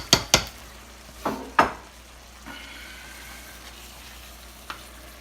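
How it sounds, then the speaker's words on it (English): Shrimp thrown into a pan on high heat: several sharp clanks and scrapes of metal against the pan, followed by a low, steady sizzle with another faint clink near the end, no talking. "So what I like to do at this point is I throw the shrimp in."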